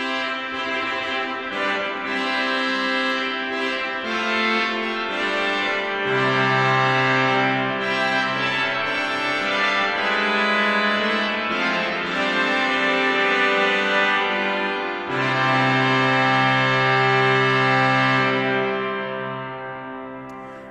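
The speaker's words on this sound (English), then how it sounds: "That's the fanfare trumpet we use at the beginning of big processions in services." Trompette harmonique fanfare trumpet stop on the Gloucester Cathedral pipe organ, a loud, bright brassy chord sequence sustained throughout with long held notes and a swelling, reverberant ceremonial sound, no talking.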